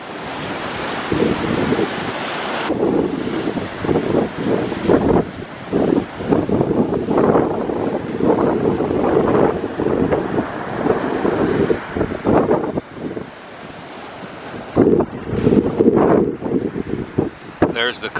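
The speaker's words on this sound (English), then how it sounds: "This is the sea village of Charmouth at high tide on a windy, windy day" Strong wind buffets the microphone at the seaside village of Charmouth at high tide near sunset, with surf breaking steadily underneath and loud gusts rising and falling throughout.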